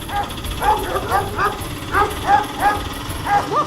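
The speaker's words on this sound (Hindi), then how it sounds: "लड्डू भाई अब हम क्या करें, ये कुत्ते तो हमको खा जाएंगे।" Several dogs bark in short repeated bursts, fairly close, with a steady rumbling motor underneath; each yelp is sharp and separated by brief gaps.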